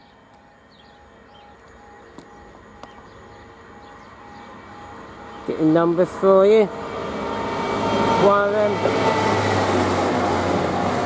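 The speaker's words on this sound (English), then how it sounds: "Hopefully it should be a freight train" A freight train passes through Waterbeach station, a steady rumble building and growing louder toward the end, with a brief horn-like tonal burst midway and a person talking nearby.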